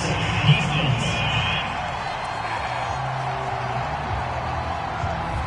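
Stadium crowd at an NFL game between the Bears and Seahawks reacts with a loud, sustained roar of displeasure after a penalty flag on third down, a dense wash of voices and jeers that eases slightly but carries on throughout.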